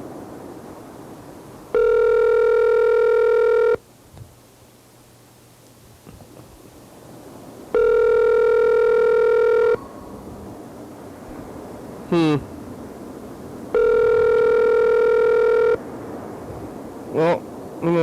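A phone call placed to a cell phone, with three long, steady ringing tones separated by pauses of quiet room noise and a few faint clicks.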